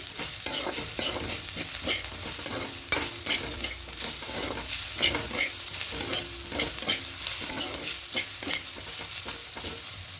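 Bottle gourd peel with poppy seeds and a little sugar is stir-fried in a pan, with a steady close sizzle and repeated scraping strokes of the spatula, no voice.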